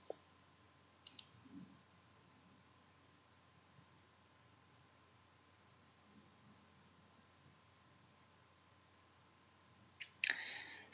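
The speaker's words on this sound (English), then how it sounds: "So let's just double click that." A computer mouse gives a crisp double click, then another pair of quick clicks and a faint rustle near the end, all quiet against a low steady hum.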